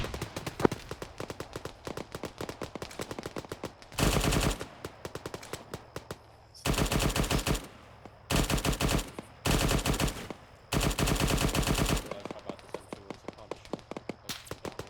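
A DShK heavy machine gun in the Arma video game fires in sustained loud bursts, five long stretches of rapid automatic fire separated by short pauses, preceded by scattered single shots.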